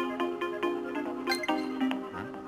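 A phone ringtone from the video game Luigi's Mansion 3 plays as a bright, chiming melody of short repeated tonal notes at a steady rhythm, fairly loud and clear.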